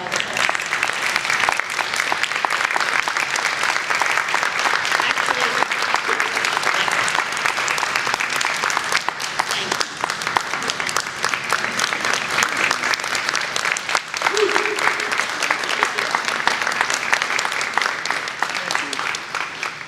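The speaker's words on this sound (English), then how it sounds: "Can we give him a round of applause?" Sustained audience applause at an annual meeting, steady and dense for the full stretch, with faint voices mixed under the clapping.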